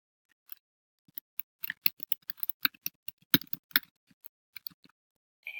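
Fingers tapping on a computer keyboard at close range, a quiet, irregular run of sharp key clicks in short bursts with small pauses between, no voices.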